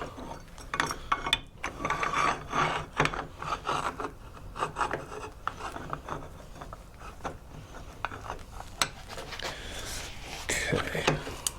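Clamps are tightened on a laminate piece, giving a series of ratcheting clicks, scrapes and rubbing sounds at moderate volume, with sharp mechanical snaps scattered throughout.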